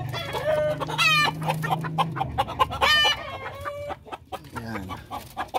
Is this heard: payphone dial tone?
no